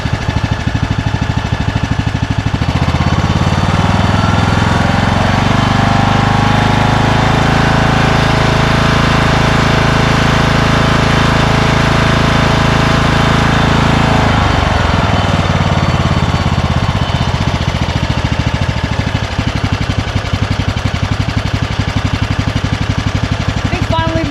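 A 19 hp Kohler Courage engine with a cracked block on a Craftsman DLS3500 lawn tractor, fitted with a new fuel solenoid, runs loud and close: it revs up after a few seconds, holds a steady roar, then drops back to a lower drone.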